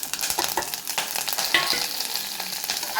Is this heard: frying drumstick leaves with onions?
yes